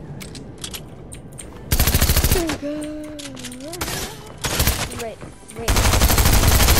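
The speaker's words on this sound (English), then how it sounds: "someone's shooting at him" Rapid automatic gunfire bursts loudly in Fortnite, a dense clatter of shots in two heavy volleys, with a player's voice and game sounds in between.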